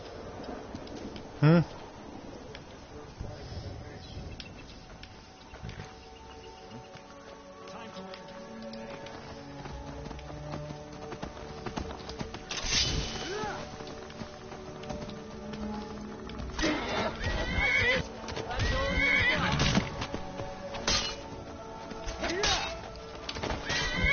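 Video game horse hooves clip-clop while a horse neighs and whinnies in Skyrim, with people talking over the scene and rising activity toward the end.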